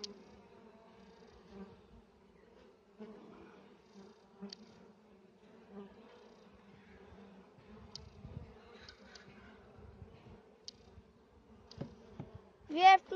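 Honey bees hum in a steady, fairly faint drone while a beehive is split into a new hive, with occasional louder buzzes passing close and a few quiet voices and handling noises.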